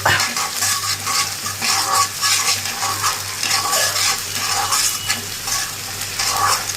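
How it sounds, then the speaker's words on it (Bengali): Onion and garlic sizzle steadily in a wok before radish greens go in, a constant loud hiss of frying with repeated scraping and stirring of a utensil against the pan. "এবার ভাজি করার জন্য পেঁয়াজ রসুন কড়াইতে দিয়ে দিতে, একটু লালটে লালটে হয়ে আসলে তখন শাকগুলো দিয়ে দিব।"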